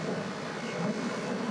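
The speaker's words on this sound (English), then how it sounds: "Let's all watch the plane." An airplane passes overhead as a steady, broad engine roar. The drone stays even and continuous throughout, with no voices.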